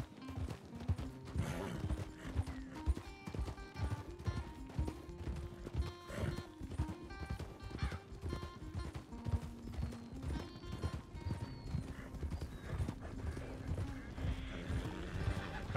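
Horse in Red Dead Redemption 2 roleplay galloping with steady clip-clop hoofbeats and neighing whinnies, backed by continuous game music throughout.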